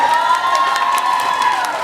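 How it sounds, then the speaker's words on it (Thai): A crowd at a sunscreen product launch event cheers and claps, a dense, loud wash of voices and whoops with a sustained tone running through it and applause mixed underneath. "ปรบมือให้หน่อยครับพี่บุ๋ม"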